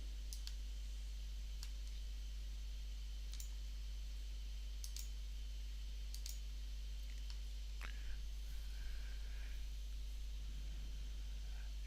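A computer mouse clicks now and then while statistical software is operated, several faint, sharp, isolated clicks spaced irregularly over a low steady hum and background hiss, with no speech.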